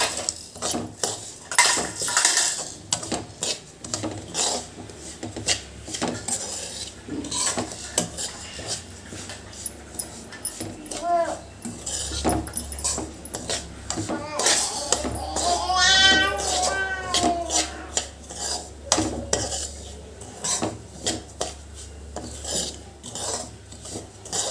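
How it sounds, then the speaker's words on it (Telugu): Dry semolina (rava) frying over a low-to-medium flame for jaggery rava laddu while being stirred in a pan. Continuous scraping and rasping from the spoon against the pan, with a few metallic clinks along the way. "రవ్వని లో ఫ్లేమ్లో టు మీడియం ఫ్లేమ్లో పెట్టుకొని బాగా ఫ్రై చేసుకుందాము"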